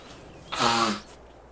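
A single sneeze bursts out loud and close, a sharp broadband blast of about half a second from a person who has been sneezing for weeks with no known allergy.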